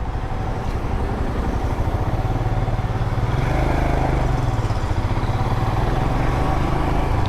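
A motorbike on a long road trip toward Adi Kailash runs steadily close by, its engine droning loud and constant with a slight rise in pitch partway through, no voices over it.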